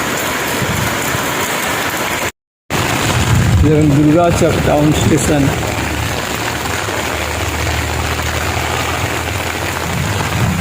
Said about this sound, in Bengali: প্রচুর বৃষ্টিপাত হচ্ছে